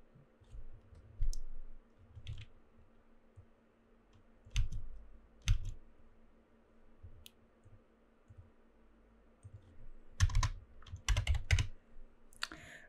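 Computer keyboard typing in short bursts of clicking keystrokes, close and fairly quiet, separated by pauses, with a denser flurry near the end.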